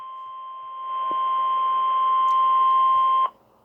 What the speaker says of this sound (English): This is a test of the National Weather Service NOAA Weather Radio All Hazards Warning Alarm System in cooperation with the Emergency Alert System.